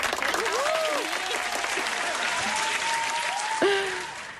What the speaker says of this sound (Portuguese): Palmas, cadê palmas pra Zoto?